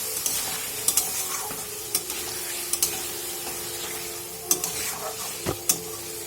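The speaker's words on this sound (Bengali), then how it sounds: "ভাজা আলুটা দিয়ে নেব, দিয়ে গ্রেভিটাকে একটু নাড়াচাড়াও করে নিচ্ছি" Fried potatoes are stirred into a homemade shukto gravy in a pan, a steady soft sizzle under scattered spoon scrapes and clinks against the metal, close and moderately quiet.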